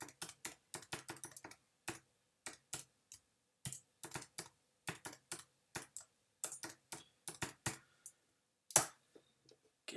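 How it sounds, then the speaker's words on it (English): Login details are typed on a computer keyboard in quick, irregular bursts of close, crisp key clicks separated by short pauses, with no voices. "we'll type them in"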